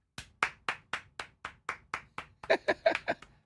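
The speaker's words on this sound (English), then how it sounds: "That's a round of applause for us for not doing that yesterday." A short round of applause from a few people in a studio, steady rhythmic claps that grow slightly louder and thicker toward the end.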